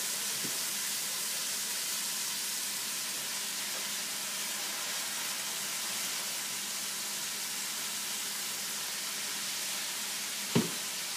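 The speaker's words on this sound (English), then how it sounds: "Go ahead and let this cook down just a little bit so we can add the remaining kale" Kale cooking down in a pan gives a steady, soft sizzle and hiss throughout, with a brief sharp clink near the end.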